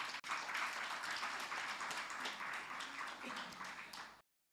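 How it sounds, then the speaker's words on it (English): Guests at a gala dinner give a warm burst of applause, a dense wash of many hands clapping at moderate loudness for about four seconds before it cuts off abruptly. "Give Mr. Calvin another nice round of applause"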